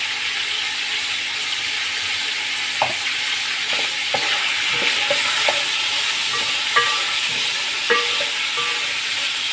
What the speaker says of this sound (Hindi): इसको अच्छी तरह भून लेना